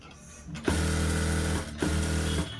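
A sewing machine stitches a blouse lining in two quick runs of rapid mechanical clatter, close and even, separated by a brief pause, with no talking.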